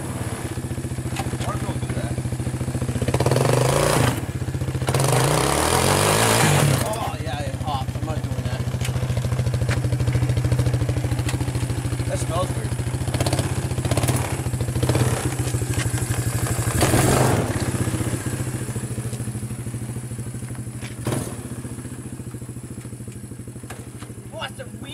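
Suzuki Ozark 250 ATV engine revving hard during a burnout, a steady loud rumble with rising surges and clattering thumps, people talking and shouting over it throughout.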